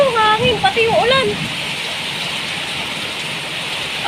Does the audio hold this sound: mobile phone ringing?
no